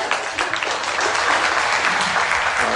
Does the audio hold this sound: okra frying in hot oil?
no